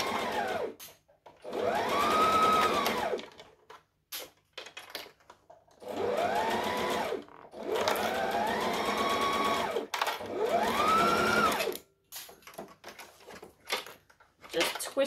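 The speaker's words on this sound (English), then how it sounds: "I'm going to stitch and backstitch and then we're just going to work our way around." A sewing machine stitches and backstitches a seam in repeated bursts of a few seconds each, with short pauses and handling noises between runs, close and fairly loud.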